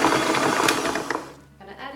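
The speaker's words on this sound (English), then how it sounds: "I've got my butter, my standing mixer. I'm going to cream it all nice and smooth." A stand mixer creams butter for miniature fondant cakes, giving a steady loud mechanical whir that fades briefly near the end before resuming.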